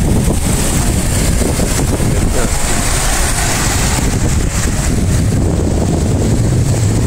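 Strong wind roars steadily across the microphone at a seaside spot in Cavite City, Philippines, with the wash of sea waves underneath, loud and continuous throughout.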